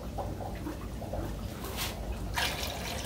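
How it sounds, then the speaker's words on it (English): Water poured from a gallon container onto a spoon held in a 10-gallon aquarium tank gives a soft, continuous splashing trickle with a few brief brighter splashes. "I pour the water onto the spoon."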